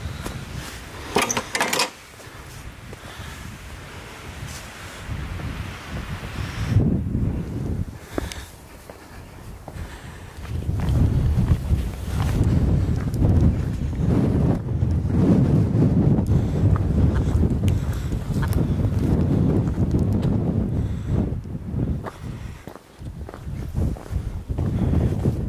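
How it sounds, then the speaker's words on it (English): Strong wind buffets the microphone on open moorland at Carlton Bank in heavy rumbling gusts, with a few clicks and footsteps early on, then a sustained roaring blast. "A very windy Carlton Bank."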